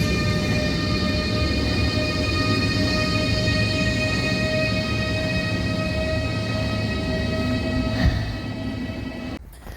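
A PESA Dart train pulling into Opole Główny station, a steady loud rolling rumble with a sustained tonal whine from the train, ending abruptly as it passes close by.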